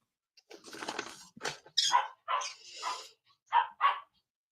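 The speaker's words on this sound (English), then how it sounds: "Doggo." A dog barks several times nearby in a quick, uneven series of loud yips and woofs, clear and close with no talk over it.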